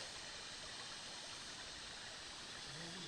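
A stream flows beside man-made boulders, a faint, steady rushing wash of water with no clear voices over it.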